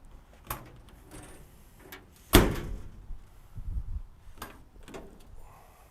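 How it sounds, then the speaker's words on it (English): Lockable side drawers on a Knapheide KUV utility body fitted to a 2021 Mercedes-Benz Sprinter cab chassis, opened and shut with one sharp, loud slam midway and a few softer bumps and slides around it, close by. "Look at all these drawers right here on the sides."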